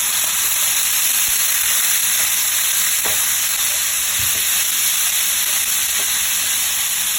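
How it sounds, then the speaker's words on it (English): Pork and beef meat sizzle loudly in a pan, a dense continuous frying hiss with occasional stirring clicks and scrapes, close up and with no talking. "I'm going to go ahead and place both the pork and the beef meat inside the pan. And I'm going to mix them while they cook."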